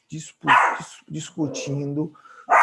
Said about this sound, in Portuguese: minha cachorrinha está latindo